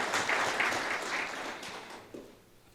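A conference audience gives a round of applause, dense clapping that holds steady before fading out over the last second.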